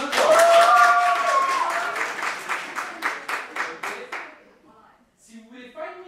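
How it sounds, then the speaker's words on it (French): An audience at a live stage show applauds to vote for Tunique Bleue. A dense burst of clapping starts loud, thins out and fades after about four seconds, followed by faint scattered sounds. "Tunique Bleue, applaudissez maintenant."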